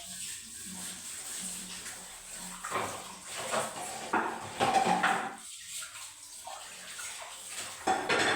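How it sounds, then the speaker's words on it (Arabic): Water runs from a crooked household tap, a steady splashing stream with surging bursts and clatters as it hits a basin, nearby and moderately loud. "حتى الحنفية معوجة عليا"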